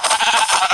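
A short, loud, wavering bleat from a sheep or ram in a survival-crafting video game, nearly a second long and close up, with no speech over it.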